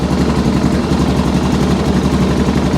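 A Yamaha Grizzly 660 ATV engine running in neutral while parked, revving up to about 5,000 rpm: a loud, steady, buzzing drone that carries on without a break and with no talking.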